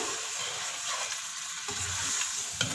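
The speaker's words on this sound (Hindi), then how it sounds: "अब हम इसमें ऐड करेंगे घी। अब हम इसको भून लेंगे।" Mutton karahi paste fries in ghee with a soft, steady sizzle and occasional stirring scrapes, close but fairly quiet.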